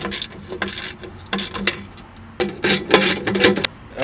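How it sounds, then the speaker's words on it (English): A ratchet wrench loosens 10mm heat shield bolts on a Polaris RZR exhaust, with loud, close bursts of rapid clicking ratchet strokes separated by short pauses. "now that I've loosened the 4 10mm heat shield bolts, I can go ahead and remove them"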